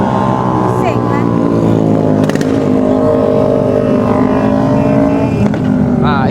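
Motorcycle passing on a city street near Dataran Merdeka in Malaysia, its engine note rising and falling amid traffic noise, with a brief honk and people talking throughout.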